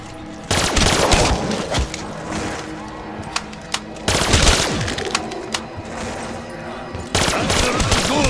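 Rapid automatic gunfire from the Black Ops 3 zombies mode, in bursts of loud, dense shots against game noise, with sharp single cracks in between and a fresh heavy volley near the end.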